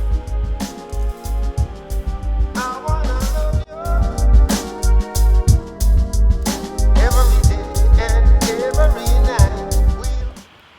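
Hip-hop beat built from kick, snare and hi-hats with chords underneath and a doubled bass line, loud and dense, booming low kicks driving a steady groove that briefly drops out partway through before slamming back in.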